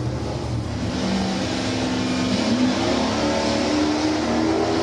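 A Chevrolet Chevelle drag racing at Tucson Dragway makes a loud, sustained engine roar with a steady droning pitch, close and continuous throughout.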